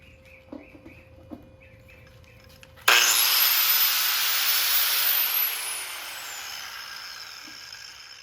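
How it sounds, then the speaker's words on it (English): An angle grinder switches on abruptly, plugged into a newly installed outlet in a workshop while a welding cart is being built, giving a loud, steady high-pitched whine that slowly winds down and fades, with a few faint clicks just before it starts. "got a grinder"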